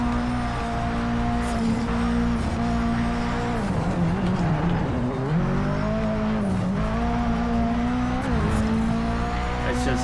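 A converted 968 HP Mitsubishi Evo VI time-attack race car in Project Cars on the Azure Coast track holds a loud, steady engine drone that rises and dips with gear changes, with faint tire squeal throughout.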